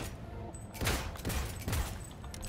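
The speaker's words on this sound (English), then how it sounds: "I think this is the pistol we were using with Johnny Silverhand. Sidewinder." The Sidewinder pistol in Cyberpunk fires three sharp, loud shots in quick succession, each cracking close by with a short echoing tail, over a low background hum.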